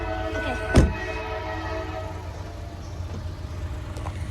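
A train in Ashville, Ohio rumbles past with a steady low drone of rail noise and a brief louder burst near the start, heard from close by without speech.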